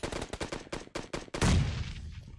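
SKS rifle fire in a video game: about seven sharp shots in quick, evenly spaced succession, ending in a louder, longer blast that decays into rumbling noise.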